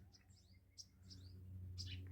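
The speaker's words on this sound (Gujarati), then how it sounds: "એકદમ કુદરતી વાતાવરણ પક્ષીઓનો અવાજ" Several birds chirp and tweet in short, scattered calls over a low steady hum of background noise.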